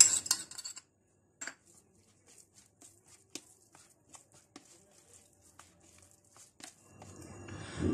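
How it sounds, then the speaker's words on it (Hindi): Egg being mixed into a beef mince and noodle kebab batter in a bowl: sparse, irregular clinks and scrapes of a utensil against the dish, close and fairly quiet, with brief louder clatter at the start and a rustle at the end. "अब इसको अच्छी तरह से मिक्स कर लेते हैं।"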